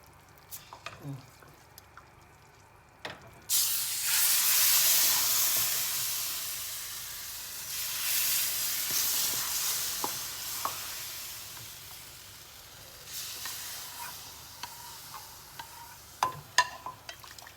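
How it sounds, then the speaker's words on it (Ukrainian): Toasted flour is poured into a cooking pot for a meat-roll lunch and sizzles in a sudden loud burst that settles into a steady hiss and bubbling, with occasional clicks and stirring knocks near the end. "мука засмажилася і ми її виливаємо в наш баняк"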